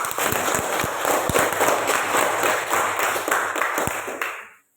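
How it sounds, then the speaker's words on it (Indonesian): Students in a classroom clap their hands together, a lively patter of overlapping claps with a few sharper slaps standing out, dying away quickly at the end. "Silakan semua, tepuk tangan untuk semuanya."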